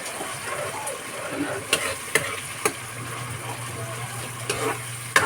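Udon noodles stir-fry with soy sauce in a pan, a soft continuous sizzle broken by several sharp scraping clacks of a utensil against the metal.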